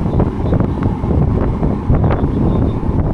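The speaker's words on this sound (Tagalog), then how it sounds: "ang lakas ng hangin" Strong wind roars and buffets against the microphone in a loud, continuous rush, with no voices.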